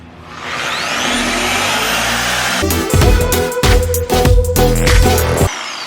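A paint polisher on a VW Vanagon winds up to top speed setting 6, a steady whirring drone that swells and roughens as the pad bites, running loud and close without pause.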